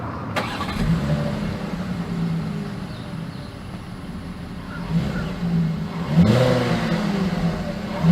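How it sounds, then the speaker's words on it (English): Exhaust of a 2021 Volkswagen Atlas idling with a steady low rumble, then a brief rev near the six-second mark that swells louder before settling again, heard close up with no talk. "As always, here is that exhaust clip."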